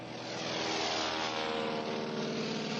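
A propeller airplane descends low toward a water landing, its engine a loud, steady, close drone that swells slightly and then holds for the few seconds heard.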